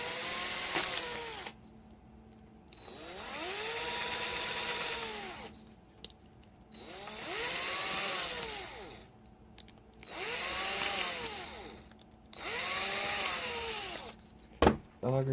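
Small drill driving a 5/64 inch bit into 3D printed snow blower parts, four whining bursts that rise and fall in pitch, separated by short pauses.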